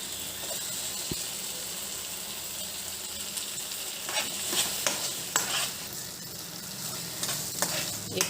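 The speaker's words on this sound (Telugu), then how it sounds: "ఇప్పుడు ఆనియన్స్ వేద్దాం." Sliced onions are sizzling in oil in a pan for tomato chutney, a steady frying hiss broken by scraping stirs of a spoon that grow more frequent in the second half, heard up close.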